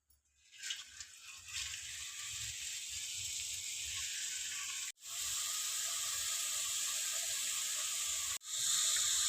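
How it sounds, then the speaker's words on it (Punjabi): Vegetable pakoras frying in hot oil, a steady loud bubbling hiss that starts after a quiet moment and continues close up, broken by two brief cuts. "ਤਾਂ ਹੁਣ ਆਪਾਂ ਇਹਨਾਂ ਨੂੰ ਤੇਲ ਵਿੱਚ ਤਲ ਲਵਾਂਗੇ"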